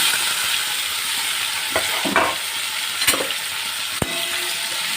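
A brinjal mixture with cumin and curry leaves fries in a pan, giving a steady hissing sizzle, with a few sharp scrapes and knocks of a spoon stirring it.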